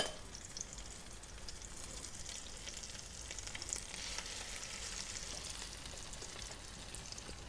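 Salmon cakes, small patties lightly dusted with cornmeal, fry in butter on a stovetop over medium-high heat, giving a steady close sizzle and crackle with no voices throughout.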